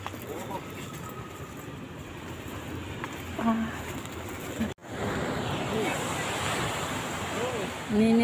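Waves wash continuously onto Munggu Beach, with wind rumbling on the microphone and a brief dropout midway.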